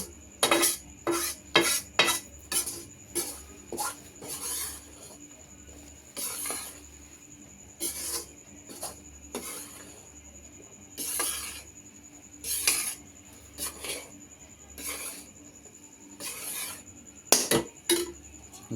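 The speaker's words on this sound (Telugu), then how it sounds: "చూడండి ఆపనే లేదు కలుపుతూనే ఉన్నాను ఎందుకంటే అడిగి అంటుకుంటుందని" Wheat flour for gulab jamun is stirred in a pan with ghee, a metal spoon scraping and clinking against the pan in repeated close bursts of rhythmic strokes, with short pauses between them and a faint low sizzle underneath.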